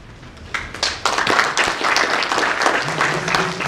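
An audience at a scientific conference applauds the organizing committee, a steady wash of many hands clapping that swells after a brief start and holds for several seconds.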